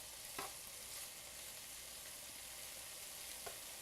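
Chicken pieces stirred and cooked in a pan, a quiet steady sizzle with a few light scraping knocks from the utensil moving the food around.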